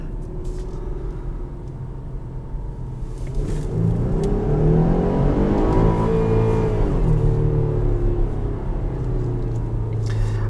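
A 2021 Jeep Grand Cherokee Trailhawk engine revving toward redline, a steady cabin drone that swells into a rising roar with climbing engine tones, then eases off, heard from inside the vehicle.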